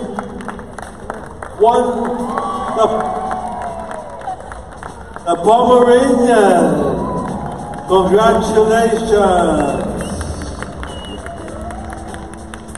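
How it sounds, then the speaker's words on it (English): Applause rises for a Pomeranian named best in show at a dog show, a crowd clapping in bursts while an announcer speaks over the room and music swells through the hall. "One round of applause, please,"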